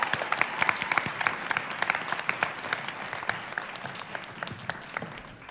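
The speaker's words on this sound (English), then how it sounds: "Let's clap!" Audience clapping after a school production of Bye Bye Birdie, a scattered, sparse patter of individual claps close by that thins out toward the end.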